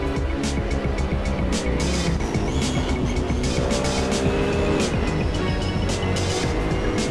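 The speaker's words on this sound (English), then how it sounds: "Stain just short shifting the BMW" A BMW GT3 race car in the Assetto Corsa racing game, short shifting at Silverstone, drones loudly and continuously with rising revs and gear changes, the steady engine roar filling the whole stretch without commentary.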